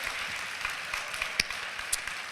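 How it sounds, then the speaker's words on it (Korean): A church congregation applauds during a late-night Good Friday worship service, a dense, fairly soft wash of clapping that holds steady for the whole stretch, with a few sharper claps standing out. "박수 한번 치세요"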